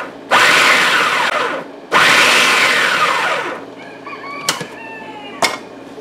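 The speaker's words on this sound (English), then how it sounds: "The reason we pulse is to let the larger chunks get down to the bottom." A food processor pulses to chop vegetables for a pork goulash: two loud whirring bursts of about a second and a half each, followed by quiet clatter and a couple of faint knocks.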